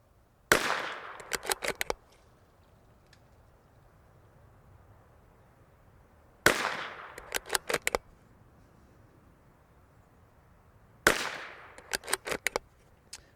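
A Bergara BMR X steel .22LR rimfire rifle fires at a target in three separate sharp reports spaced several seconds apart, each followed by a quick cluster of ringing echoes and clicks.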